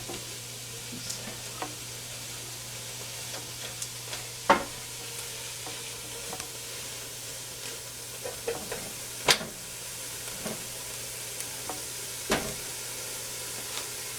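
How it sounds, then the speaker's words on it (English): Onions and peppers sautéing in olive oil in a pot, a soft steady sizzle with occasional utensil clicks and stirring scrapes, close and low over a faint hum. "just put just a little bit of olive oil in there to help finish sauteing these onions and peppers and things."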